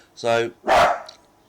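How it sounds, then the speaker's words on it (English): A dog gives one short, loud bark nearby, followed straight away by a voice speaking briefly. "sorry, that was my dog barking."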